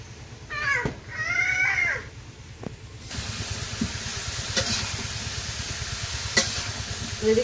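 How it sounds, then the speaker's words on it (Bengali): Vegetables and spices for a village-style curry fry in a pan, a steady sizzle with scattered scrapes and taps of stirring; a cat meows briefly near the start before the frying grows louder. "সবজি দিয়ে মশলা দিয়ে কষে নিতেছি তরকারি"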